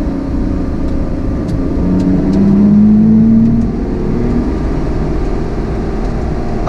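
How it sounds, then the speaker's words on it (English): A Lotus Exige Sport 380 sports car drops a gear and pulls hard, its engine note climbing and swelling loud for a few seconds before settling into a steady close-up drone. "Down a gear, first downshift."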